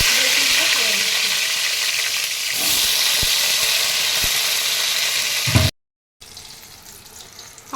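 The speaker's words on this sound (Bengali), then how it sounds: "আমার বেগুনটা লাল লাল করে ভাজা হয়ে গেছে" Eggplant pieces fry in hot oil with a loud, continuous close sizzle and occasional clinks of a utensil, then a sudden cut to silence before the sizzling resumes more quietly.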